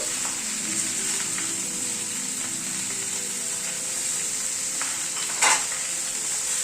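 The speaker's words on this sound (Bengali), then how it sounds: "নুন হলুদ দিয়ে সবজিটাকে একটু নাড়াচাড়া করে দিচ্ছি।" Vegetables stirred with salt and turmeric in a pan, a steady bright sizzle throughout with faint scrapes and one short clink near the end, close and moderately quiet, no talking.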